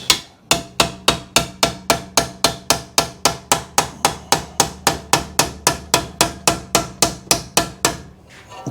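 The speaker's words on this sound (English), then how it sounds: "Right, I think we'll go for a little hammer." A small hammer taps metal in a quick, steady rhythm, about twenty sharp ringing strikes evenly spaced, close and loud, before stopping.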